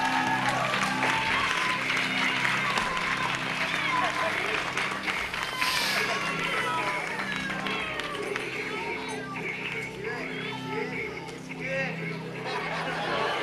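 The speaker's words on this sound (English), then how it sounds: "A round of applause for all of our Workmanship Award winners." A convention masquerade audience applauds workmanship award winners with sustained clapping mixed with cheers and crowd chatter, gradually thinning toward the end.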